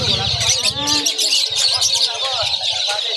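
Many birds chirp and tweet at once at a pet market in Bocaue, a busy, overlapping chorus, close and loud, with some lower calls mixed in.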